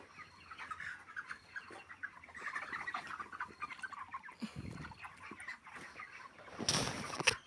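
Chickens in a poultry farm shed cluck and murmur softly in a busy, fairly quiet chorus, ending in a brief louder flurry near the close.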